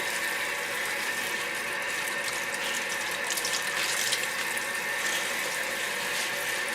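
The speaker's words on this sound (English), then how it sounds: "So I usually grab a bunch, rinse it under the water, break them in half." Running tap water pours steadily as broccoli rabe is rinsed and broken under the stream, a continuous close hiss and splash with faint clicking, no talk.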